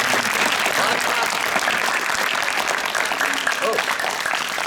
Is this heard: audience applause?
yes